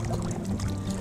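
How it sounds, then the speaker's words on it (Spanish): A kayak is paddled on the sea at San Felipe, with soft continuous water splashing and trickling close by. "andamos kayaking con el Honey Bunny"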